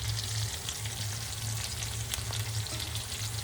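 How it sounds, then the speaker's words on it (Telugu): Green chillies frying in a pan, a continuous dense sizzle with a low hum underneath and a few faint clicks, close up and without voices. "ఈ టైంలోనే గ్రీన్ చిల్లీస్ కూడా వేసేస్తే మనకి బాగుంటుంది. అవి ఫ్రై అయ్యి."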